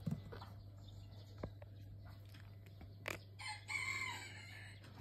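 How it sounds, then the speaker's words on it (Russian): Small birds chirping and twittering in a home where a pet squirrel monkey lives, a few brief high calls and a short burst of chatter, moderately close over a steady low hum. "Да это птички, птички."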